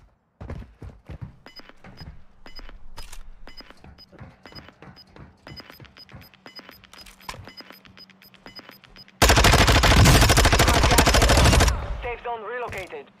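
Close, rapid submachine gun fire in Call of Duty Warzone 2: repeated bursts of sharp shots with a steady rhythm, then a sudden loud, dense roar of blasts or debris that fades into a noisy tail.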